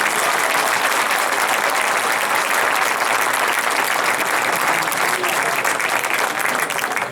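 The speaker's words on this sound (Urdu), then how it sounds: "ایک مرتبہ بھرپور تالیاں ہونی چاہیے ان کی شاعری کے لیے" Sustained applause from a large audience at a poetry recital, dense clapping that stays loud and even for several seconds.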